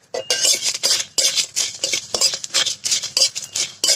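Cumin seeds are dry-roasted in a pan and stirred briskly, producing rapid, loud, rhythmic scraping and rattling of seeds against metal.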